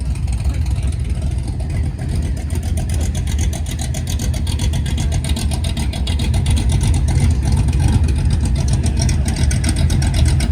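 A 1969 Pontiac GTO engine runs loud and close with a low, throaty rumble, holding a steady rough idle that builds slightly without sharp revs.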